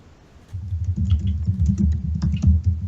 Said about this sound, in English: just like typing it word for word